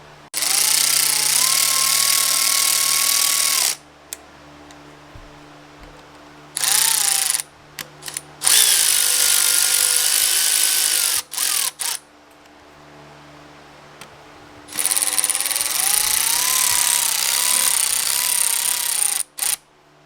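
Manifold studs on a car engine being locked in with Allen head tools, heard as several loud bursts of whirring power-tool noise separated by pauses of quiet, close by with no talking.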